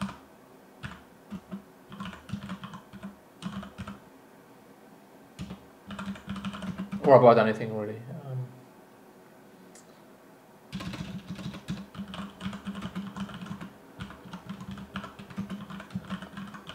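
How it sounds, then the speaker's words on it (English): Computer keyboard typing during a hardware-design coding session, rapid clustered keystrokes fairly close, pausing midway while a person speaks briefly, then resuming in steady bursts. "I can do my best to answer while I'm doing the boring part of typing things."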